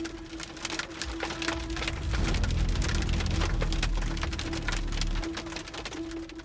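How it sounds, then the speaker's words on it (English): Hail drums hard on an RV and truck during a mountain-pass storm, a dense loud rattle of impacts with a low rumbling undertone and a steady hum, no talk. "As we were nearing the top of the pass, the hail started to beat down on us."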